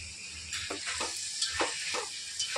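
Mint and coriander frying in hot ghee and oil for chicken dum biryani, a steady bright sizzle with a few soft stirring scrapes, close and continuous, no voices.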